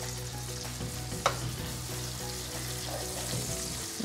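Garlic and rosemary cooking in butter in a pan alongside lamb steaks, a steady close sizzle with a single sharp clink partway through and faint scraping, no talking.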